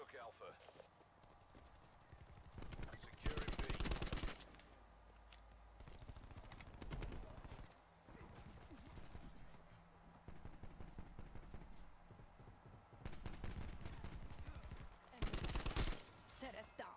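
Gunfire in Call of Duty Black Ops 4 multiplayer Domination, heard as loud bursts of rapid shots recurring through the clip, with quieter stretches of footsteps and game noise between them and a player talking over it.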